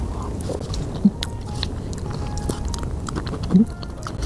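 Chewing on a crispy crumble topping of a sandwich cookie that was frozen and then kept refrigerated for two days, with soft crunchy bites throughout and two louder crunches standing out.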